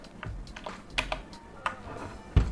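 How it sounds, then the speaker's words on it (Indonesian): A Digital Alliance Meca Air mechanical keyboard is typed on in a slow, uneven run of clacks, close and moderately loud, with short gaps between keystrokes. "kita tes ngetik"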